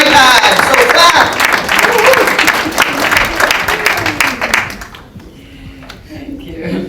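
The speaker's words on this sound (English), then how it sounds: "So you got to clap up Wendy Hart" An audience at a launch event applauds Wendy Hart, loud close clapping for about five seconds that then cuts off abruptly, leaving a quieter room with faint murmuring.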